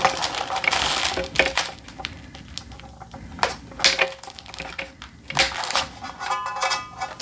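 An LED driver is pulled and pried out of a light fitting being converted into a smart light, giving a string of close, irregular cracks, snaps and rattles.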